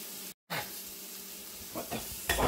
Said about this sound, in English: We have our ham still sizzling away